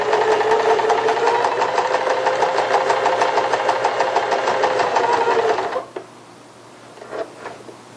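A sewing machine stitches a buttonhole on a child's strap sundress, its fast, even needle chatter running loud and steady for about six seconds before stopping abruptly, followed by a few faint handling clicks.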